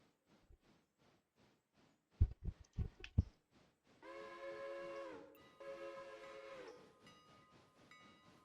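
Passenger train in the Railroader game rolling past with rhythmic wheel clacks, a few heavy clunks, then a sustained whistle blast that fades into lingering tonal sound.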